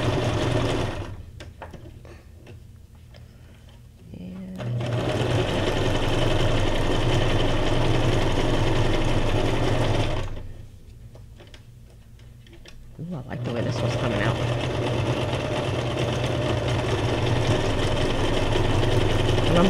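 A sewing machine runs a zigzag stitch along the edge of a junk journal piece in steady, loud whirring bursts. The motor stops briefly twice, leaving short quiet gaps before it starts again.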